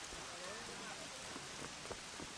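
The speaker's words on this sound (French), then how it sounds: "Oh, il pleut." Rain falling steadily outside a window, a soft continuous hiss with faint scattered drop taps, fairly quiet and with no talk over it.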